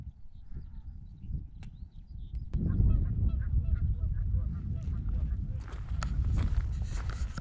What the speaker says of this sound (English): Just hear the geese